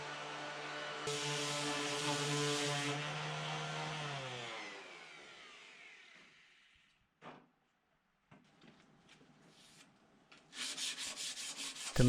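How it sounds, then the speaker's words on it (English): Hand sanding an oak bevel with a sanding block while building a custom light fixture. A spinning tool first winds down and falls silent, then short, close, rhythmic rasping strokes follow. "To maintain the crisp lines on this bevel, I'm using a sanding block instead of the random orbital sander"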